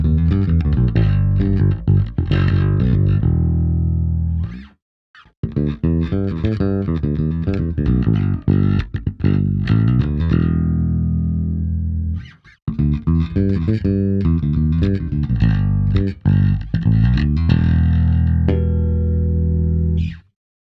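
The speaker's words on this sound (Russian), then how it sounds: "мы послушаем, как звучит этот инструмент на разных звукоснимателях, и начнем с некового датчика" A Sire P7 Alder-4 second-generation bass guitar played through its neck pickup, a loud, close, continuous run of deep plucked notes and slapped phrases with brief pauses between passages.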